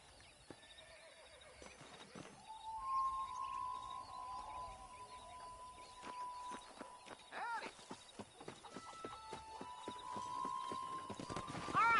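A horse in the Western video game Red Dead Redemption whinnies several times over steady clip-clop hooves, with game music and ambience underneath.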